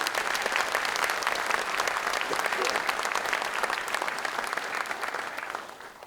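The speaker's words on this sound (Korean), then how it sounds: "여러분 호응의 박수 한번 해주시기 바랍니다" A large audience at a justice minister's inauguration ceremony breaks into sustained, dense applause that fills the hall and holds steady before tapering slightly at the end.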